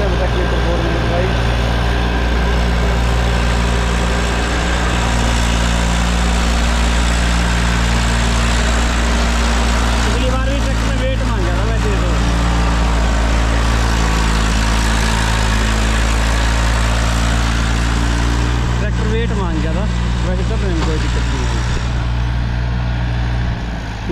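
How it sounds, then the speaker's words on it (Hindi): An Eicher tractor engine runs steadily throughout, a continuous low rumble with a constant hum, the machine under load in a field. "ये बढ़िया पावर लगा रहा है और सही चला है ट्रैक्टर एकदम"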